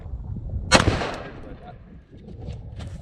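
A single loud, sharp blast from a Remington 870 shotgun rings out at close range, followed by a decaying echo and low rustling.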